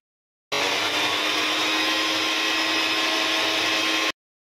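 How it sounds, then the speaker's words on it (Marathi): A kitchen mixer grinder whirs loudly for about three and a half seconds while grinding a spice paste, a steady high-pitched motor roar that starts and stops abruptly, with no talking. "आता हे वाटण आपल्याला मिक्सरमध्ये वाटून घ्यायचं आहे।"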